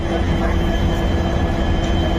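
A train at New Bongaigaon station gives a loud, heavy, continuous rumble with a steady low roar and no clear breaks, heard close as if from on board.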